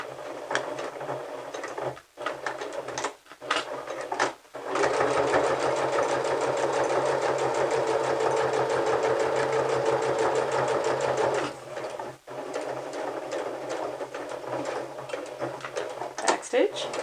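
Domestic sewing machine back stitching a 3/8 inch seam on a fabric clutch purse, with a steady fast needle chatter running for several seconds between short bursts of stitching, set under quiet room tone.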